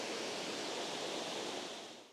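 Rutledge Falls pours in a steady, dense roar of falling water with a foreground pool below, broadband and constant throughout, close and fairly loud with no voices.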